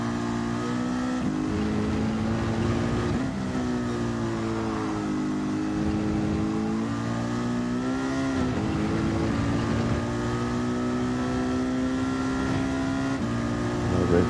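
A race car engine drones and revs steadily in the Gran Turismo racing game, a sustained loud whine that rises and falls in pitch throughout, with voices talking faintly over it.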